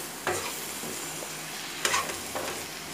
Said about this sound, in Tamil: இப்போ நல்லா வந்து எல்லாம் வதங்கட்டும்.